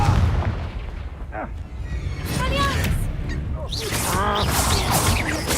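Confringo explosion spell going off in a Harry Potter video game, booming blasts and crashing impacts with whooshes, mixed with shouted voices and game effects.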